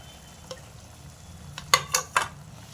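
Fried brinjal pieces tipped into sizzling masala on a tava and stirred, giving a low steady frying hiss broken by three sharp scraping clatters of the spoon toward the end.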